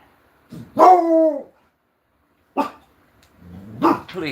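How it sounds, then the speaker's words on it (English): A dog barks a few times at close range, sharp separate barks with pauses between them and a whiny edge. "Please tell me somebody didn't just show up at my house and my dog barking."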